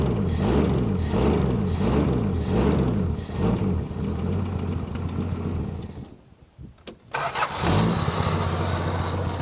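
Engine of an abandoned Plymouth Barracuda, sitting for decades, running with a lumpy pulsing idle, briefly cutting out, then restarting and settling back into a steady close idle, with no voices over it.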